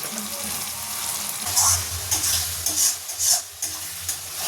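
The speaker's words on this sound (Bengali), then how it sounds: "সুন্দর চিকেন মশলাটা কষানো হয়ে গেছে।" Chicken masala of tomato, turmeric, Kashmiri red chilli powder and cumin powder is stir-fried in a pan, a close steady sizzle with wet scraping and stirring strokes rising and falling throughout.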